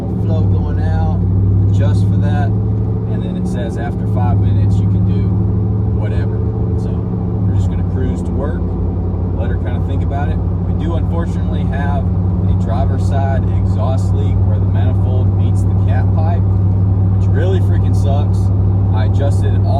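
A truck with newly installed SPD high-flow catalytic converters drives gently at light throttle, its engine a steady, close, low drone throughout, with voices heard over it.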